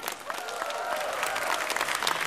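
Applause fills a talent show studio as the judges are welcomed, steady dense clapping that swells slightly and stays loud, with faint crowd voices mixed in.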